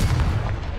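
A Confringo blasting spell goes off in the Hogwarts Legacy video game, a short, heavy, booming burst that fades quickly within a second, loud and close with no talk over it.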